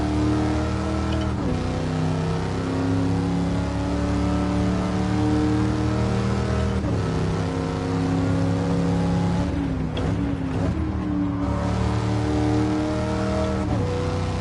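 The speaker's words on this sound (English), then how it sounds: "On to the throttle, full throttle through here" A Pontiac Firebird Trans Am engine at full throttle in Gran Turismo 7 on the Nordschleife: a loud, steady V8 roar climbing in pitch, with a few sharp drops where gears change, close and continuous with no talk.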